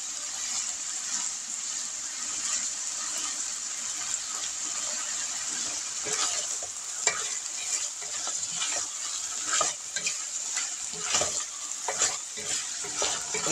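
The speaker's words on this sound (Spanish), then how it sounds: "que la salchicha esté bien sofrita, bien sofrita, bien sofrita la salchichita" Sausage frying in a pan makes a bright, constant sizzle, with scattered crackles and stirring clatters that grow busier toward the end.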